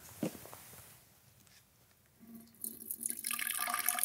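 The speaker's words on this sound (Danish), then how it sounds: "Vil du prøve at hælde op i et glas?" Red cabbage juice is poured into a glass, starting as a faint trickle and swelling into a steady splashing pour toward the end, quiet and close.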